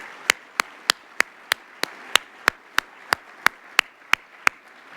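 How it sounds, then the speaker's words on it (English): Slow, evenly spaced sharp claps, about fifteen in five seconds, ring out over a quiet room hum in a mayor's speech hall, sounding like one or a few people clapping in rhythm rather than a full crowd. "Let's give them and our students a big round of applause."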